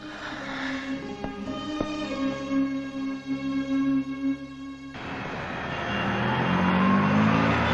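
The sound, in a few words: lorry approaching from behind on the road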